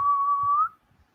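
A single sustained whistle, one steady note held for a bit over half a second before cutting off, loud and close with nothing else around it.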